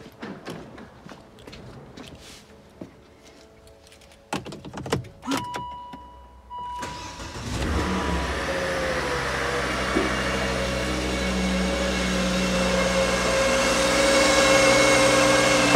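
Scattered clicks and thumps give way to a Volvo S40 T5 engine cranking and catching on its first start after an engine swap, then settling into a steady running hum with a fan-like whoosh.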